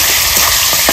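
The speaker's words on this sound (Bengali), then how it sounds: "দিয়ে দেবো পেঁয়াজ কুচি, সুন্দর করে পেঁয়াজটা ভেজে নেব।" Chopped onions frying in oil for a village-style mutton curry, making a loud, dense, continuous sizzle with faint stirring scrapes.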